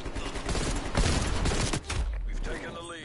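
Gunfire from the video game Call of Duty: Cold War, a dense burst of rapid shots and explosive bangs that swells around the first second, then trails off into mechanical clatter near the end.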